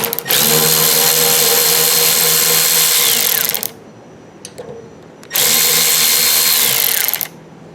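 A power tool whirs loudly in two sustained bursts, each a few seconds long with a short quiet gap and light clatter between, as bolts come off the gas filler neck ring of a 1968-1982 Corvette C3.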